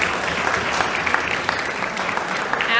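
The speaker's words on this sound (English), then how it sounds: "Let's thank them as well with a round of applause." Audience applause at the TYPROS Boomtown Awards in Tulsa for the event's sponsors: a dense, steady burst of many hands clapping throughout, loud and close, with no talk over it.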